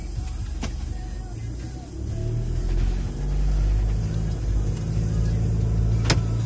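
A 2016 Isuzu MU-X engine rumbles low and steady, swelling as the SUV pulls away and keeps driving, heard from inside the cabin.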